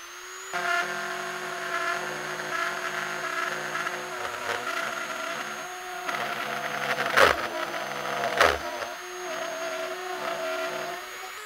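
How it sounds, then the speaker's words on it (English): Very aggressive Dremel bit cutting a hole in a guitar pickguard, a continuous high-pitched rotary whine and grinding buzz, close and fairly loud, with two brief harsh bursts as the bit bites. "using a very aggressive Dremel bit, I'll place the pickguard up on a support so I have room to work underneath it"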